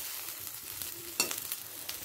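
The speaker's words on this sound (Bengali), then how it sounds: "ঠিক এইভাবে বড়াগুলোকে আমি তেলের মধ্যে দিয়ে দেব" Vegetable fritters (bora) made with greens sizzling in a little oil as they are flipped, a soft steady fry with a sharper clatter of the turn midway.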